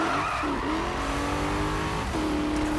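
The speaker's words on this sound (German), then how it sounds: "Ja, du kannst länger im Drift halten." Need for Speed (2015) car drifting on Xbox One, its tires squealing in a sustained high whine over a steady engine drone, briefly easing off then squealing again near the end; no talk.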